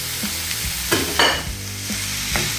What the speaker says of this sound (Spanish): Saltear la cebolla